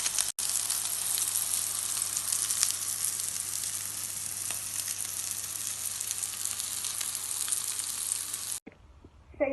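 Salmon, quinoa and feta fish cakes fry in a pan with a loud, steady sizzle that goes on without a break, then cuts off abruptly near the end.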